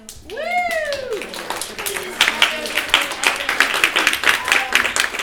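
Audience applause at an event, starting after a rising whooping cheer and growing into steady clapping from a crowd in a room.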